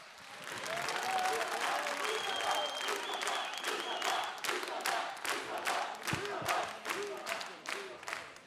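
A television talent-show studio audience claps and cheers for a Popstar contestant, dense applause rising quickly and holding steady for several seconds with scattered shouts over it.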